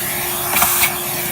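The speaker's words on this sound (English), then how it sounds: "let's vacuum it out now" A vacuum cleaner roars steadily, close and loud, as it sucks out the compartment of a Miele S5261, with a brief rise in pitch as the nozzle shifts.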